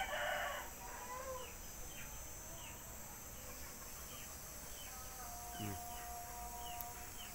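Pet Plucker chickens cluck and crow faintly from a coop, with soft insect chirping and a low background hum and no voices.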